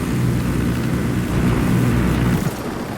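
Helicopter in the video game Ghost Recon Wildlands, a loud, steady engine and rotor drone that holds for about two and a half seconds before easing off.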